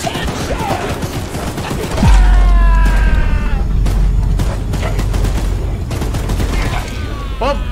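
Heavy gunfire rattles from the mounted gun on a train in the Choo-Choo Charles horror game, with a booming onset, a dense continuous stream of shots, and creature wails and mechanical noise layered over it.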